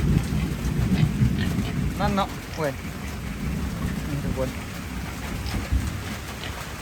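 Heavy rain falling on a Thai garden with ponds and canals, a steady close wash of dense drops that runs throughout, while someone talks over it in bursts.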